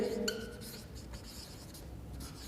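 Chalk scratching and tapping on a board during a physics lecture on force exerted by a jet on a moving inclined plate, a short burst of strokes followed by quieter scraping, close and steady with no talk.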